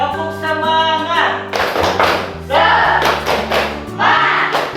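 Schoolchildren in an Indonesian primary classroom perform the 'tepuk semangat' clapping chant, with bursts of rhythmic claps and taps over a steady tonal music bed.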